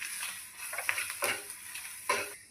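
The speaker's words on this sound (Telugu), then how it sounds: "ఇప్పుడు మిక్స్ చేసుకుందామా." Egg curry with chili powder is stirred in a pan, giving soft scraping strokes and light clinks over a faint sizzle, several short bursts close by with no talking.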